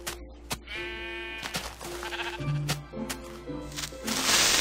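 Repeated sheep bleats from Minecraft mobs, several overlapping calls at moderate distance against other game sounds, with a louder noisy burst near the end.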